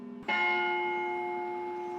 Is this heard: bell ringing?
yes